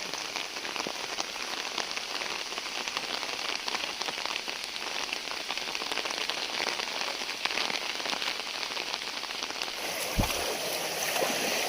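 Steady rain patters across a countryside plateau near a village and stream, a dense, even hiss of drops that continues unbroken for the whole stretch, with one faint low thump near the end.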